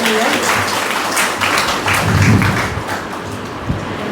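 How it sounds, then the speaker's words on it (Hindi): Clapping from an audience at a faculty development talk in a convent school hall, a continuous, moderately loud wash of hands that swells midway and then tapers, with some voice present beneath. "ताली बजाइए, बजाइए।"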